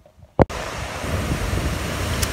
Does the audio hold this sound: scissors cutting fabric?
no